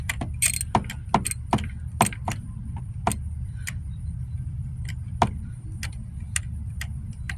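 A ratchet wrench works a spark plug loose, giving sharp, irregular clicks in short groups over a low, steady background hum, close and moderately quiet.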